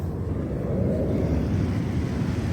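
Waves washing onto an empty beach at Dabolim, Goa, a steady low rumble of surf with wind buffeting the microphone, continuous and close throughout.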